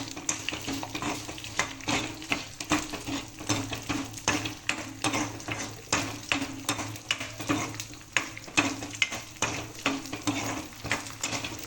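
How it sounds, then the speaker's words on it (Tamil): Ingredients sautéing in a pan, a steady close sizzle broken by frequent scraping stirs of a utensil against the pan, continuing alone without speech. "இதெல்லாம் நல்லா வதங்கட்டும்"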